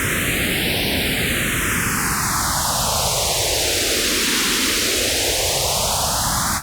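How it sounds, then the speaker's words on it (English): White noise from a synth swept by a phaser effect, its notches gliding down in pitch for several seconds and then rising back up, loud and steady with no gaps. "Phasers are great where we're using particularly white noise type sources to create a certain sort of feel"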